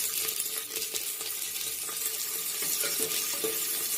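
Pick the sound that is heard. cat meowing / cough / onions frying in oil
onions frying in oil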